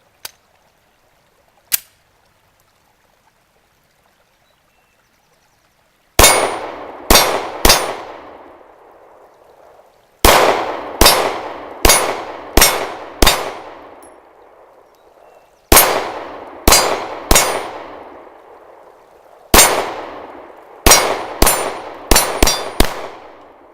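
A Ruger 9E 9mm pistol fires in rapid groups of four to six shots, each sharp report followed by a ringing metallic clang from steel targets, loud and close, after a near-silent opening with two isolated clicks.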